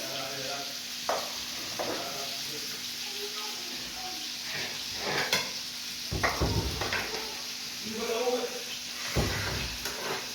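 Potatoes drop into hot oil for a fish dish, sizzling steadily under a constant frying hiss with stirring, scraping and clattering of kitchen utensils; a voice speaks briefly over it.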